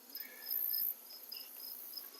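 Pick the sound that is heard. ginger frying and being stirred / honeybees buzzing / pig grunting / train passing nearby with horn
honeybees buzzing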